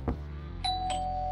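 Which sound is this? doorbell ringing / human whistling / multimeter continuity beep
doorbell ringing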